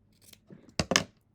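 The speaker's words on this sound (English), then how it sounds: "And then you take your scissors or your rotary cutter" Scissors cut through quilting fabric along a sewn line for half square triangles, giving two crisp, close snips with a soft rustle of cloth before them.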